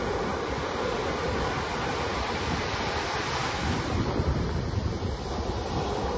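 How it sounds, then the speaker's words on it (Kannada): Ocean waves break steadily on Panambur beach near Mangalore, a loud continuous roar of surf with wind buffeting the microphone. "ನೋಡಿ ಅಲೆಗಳು ಹೇಗೆ ಬರ್ತಾ ಇದೆ ಅಂತ."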